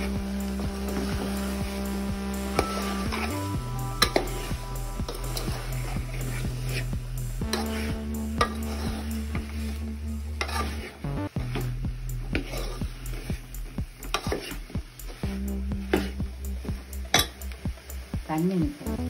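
A spoon stirs masala with coriander, chili and turmeric powders in a pan for a drumstick milk curry, steady scraping and clinking against the metal over a constant low hum, no talk.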